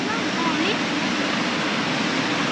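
The Tamor River in Taplejung rushes past in a steady, dense roar of water that fills the whole stretch without letting up, with a faint voice briefly underneath.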